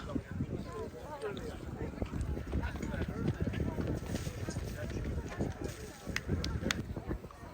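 Horse hooves clip-clop steadily on a hard surface as a racehorse is cooled down after a point-to-point race, mixed with voices talking and general outdoor bustle, moderately loud throughout.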